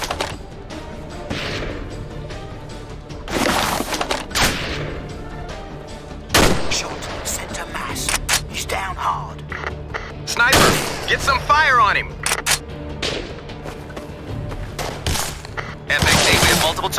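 Gunfire in Battlefield 2: Modern Combat on Xbox 360, with sharp sniper cracks and bursts of shots scattered irregularly through the scene, some loud and close, amid battlefield rumble and soldiers' voices speaking between shots.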